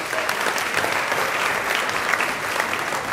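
A crowd applauds at a rabbi's lesson: dense, loud, steady clapping from many hands that fills the whole moment without a break.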